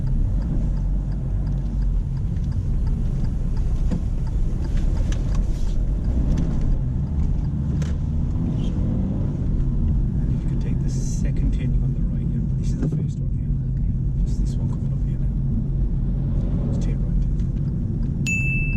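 Car driving on a road during a driving test, a steady low engine and road rumble heard from inside the cabin, with a few faint ticks and chimes and some speech over it.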